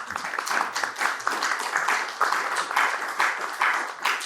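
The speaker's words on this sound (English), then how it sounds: "Melissa was the first to applaud" An audience at a geopolitical summit panel applauding, dense clapping from many hands rising and falling in waves, fairly close and steady throughout.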